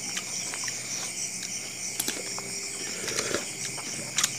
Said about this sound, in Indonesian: Ini suasana jangkrik emang lagi.